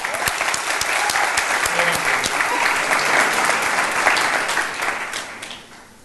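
A large audience at a graduate commencement ceremony applauds steadily in a dense, sustained round of clapping that holds loud for about five seconds, then tapers off near the end.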